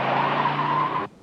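A car pulling away with a sharp tire squeal, one loud sustained screech that holds steady for about a second and then cuts off abruptly, with no talking over it.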